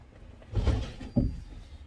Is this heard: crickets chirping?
no